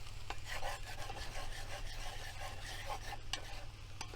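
A utensil scraping the pan while tofu and udon noodles stir-fry with a little added water in a van kitchen, quiet rasping strokes over a low steady sizzle, close and faint.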